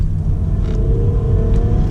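Toyota Camry V6 automatic pulling hard at full throttle in third gear, a steady loud engine rumble with a rising tone as it builds speed, no talk over it.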